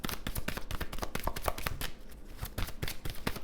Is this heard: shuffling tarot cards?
yes